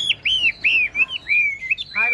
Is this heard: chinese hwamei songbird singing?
yes